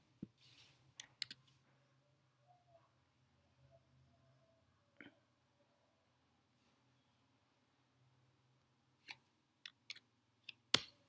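Sparse, sharp computer mouse and keyboard clicks, heard close and quiet: a few scattered single clicks early on, then a quick cluster of clicks near the end, with near silence in between.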